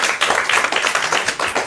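An audience applauding at a religious conference, a close, steady patter of many hands clapping at a moderate level for under two seconds, with no talking.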